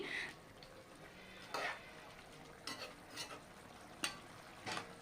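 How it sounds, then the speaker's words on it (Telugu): Chicken with turmeric is stirred while it fries in a pan: a quiet bed of frying hiss is broken by several brisk, scraping stirs spaced a second or so apart, close to the listener. "వాటర్ అనేది ఇంకిపోయే వరకు కూడా మనం దీన్ని ఏం చేయాలంటే బాగా ఫ్రై చేసుకోవాలి పసుపు వేస్తున్నాను అనమాట ఇక్కడ పసుపు కూడా వేసి కలుపుతున్నాను"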